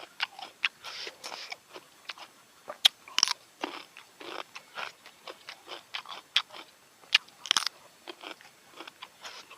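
Crunchy raw shrimp marinated in fish sauce being bitten and chewed up close, with a long series of sharp, crisp crunches at an irregular rhythm and no talking.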